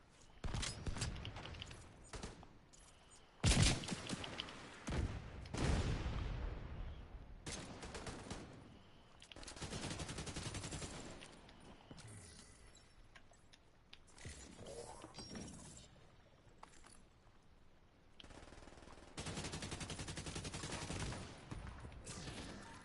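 Machine gun fire in The Division 2 comes in repeated bursts of varying length, some loud and close, others fainter, with mechanical clicks between volleys.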